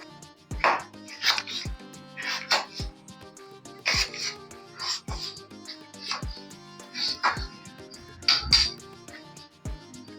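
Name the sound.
knife chopping potatoes into large pieces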